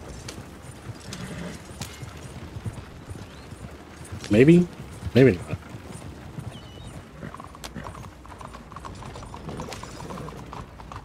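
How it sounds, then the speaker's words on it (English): Horse hooves clip-clop steadily while pulling a wagon in Red Dead Redemption 2, a soft rhythmic clatter with wheel creaks, heard under talking voices. "I think you can drift the horses while you got the wagon out"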